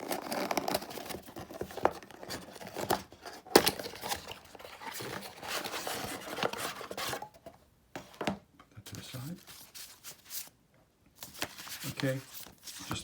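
The Killer Party: Kiss of Death board game box is opened up close, with crinkling plastic wrap, tearing and rustling of cardboard and paper, and a few soft knocks, in bursts between quiet pauses, with a voice talking at times.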